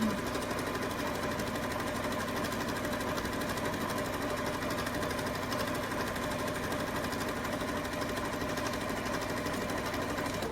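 A sewing machine runs continuously, back stitching to lock a seam on a tote bag, a steady close mechanical whir and rapid needle chatter with no breaks.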